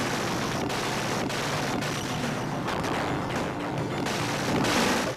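Rapid, continuous gunfire and explosions from a weapon in a Sega Mega Drive game running on a PXP3 Slim Station handheld, loud and dense throughout with brief gaps between bursts.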